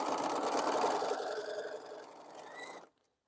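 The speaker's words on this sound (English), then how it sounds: "I'm just on here sewing some half square triangles I need for a different project." A long arm quilting machine stitches half square triangles, a steady close mechanical whir with rapid needle pulses that runs continuously, then stops abruptly near the end.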